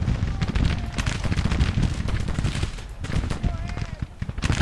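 Musket volleys and artillery fire from a Civil War battle strategy game keep up a dense, continuous crackle of shots with deep booming thumps, loud and unbroken.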